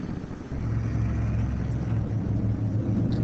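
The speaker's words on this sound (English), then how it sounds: "Sorry for the loud cars." Loud road traffic passing outside, a steady low rumble of car engines that swells after the first half second and holds, with no talk over it.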